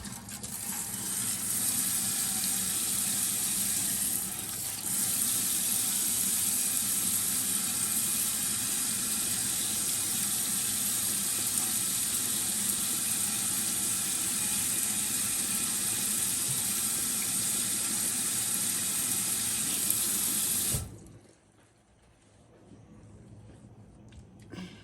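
Tap water runs steadily into a sink while leave-in hair serum is rinsed from a weave, a loud continuous rushing that stops abruptly near the end.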